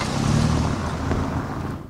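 A car drives along a road through Silesian Park, giving a steady engine and tyre rumble that stays fairly loud and close for the whole stretch, with no voices.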